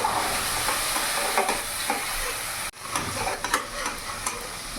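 Spices and tomato sizzle in a hot pan while being stirred, with a continuous loud frying crackle, scraping strokes and a brief break midway.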